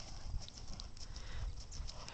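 Several horses walking in, their hooves clip-clopping in a soft, steady rhythm over a low background rumble, fairly faint and with no talking.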